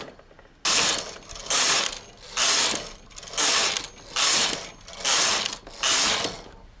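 A hand-operated knitting machine's carriage is pushed back and forth across its needles, producing loud rhythmic clattering, ratcheting sweeps, about seven of them in even succession with short pauses between.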